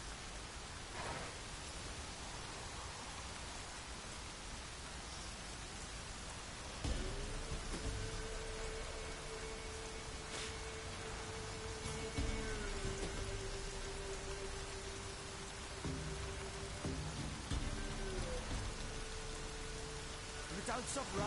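Steady rain pours down in a video game, a continuous wash of hiss with a low tonal drone and hum entering partway through, the rainfall staying even and moderately close.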